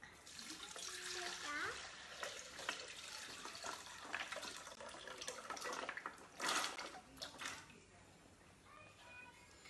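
Water and soaked almonds pour and splash into a blender nearby, with clinking and handling noises, and a voice speaks briefly.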